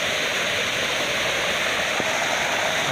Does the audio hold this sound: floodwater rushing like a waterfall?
yes